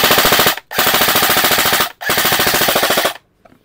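Krytac Kriss Vector airsoft electric gun firing full auto in three long rapid bursts, a loud steady mechanical rattle with two short pauses between strings, no voices.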